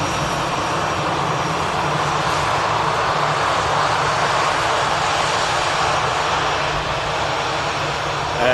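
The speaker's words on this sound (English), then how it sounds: "The Airbus A320 in use here." Airbus A320 jet engines on an airport runway, a loud, steady broadband roar that holds constant throughout without pauses or voices.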